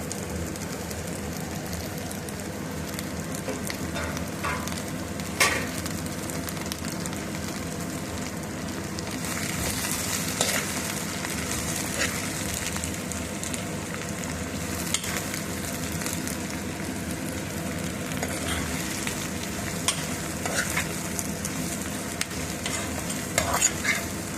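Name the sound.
stir-frying beans with sautéed onions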